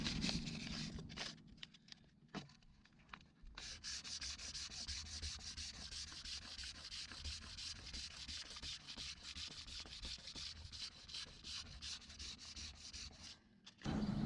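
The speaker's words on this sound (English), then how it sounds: "I just wrap the sandpaper around there." Sandpaper wrapped around a 3/4 inch pipe rubs steadily over a workpiece being prepped for paint, a close, continuous rasping scrub in quick repeated strokes that runs for most of the stretch with brief pauses near the start.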